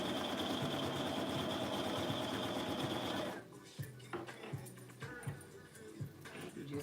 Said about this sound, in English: But the one thing about the cover stitch machine